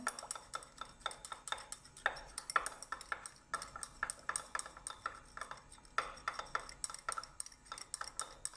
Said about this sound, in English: Then we will mix this solution together